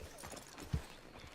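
Horse hooves clip-clop in Red Dead Redemption 2, a few soft steps under ambient game sound with one brief, louder thud near the middle.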